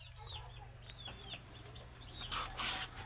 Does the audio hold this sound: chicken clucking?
yes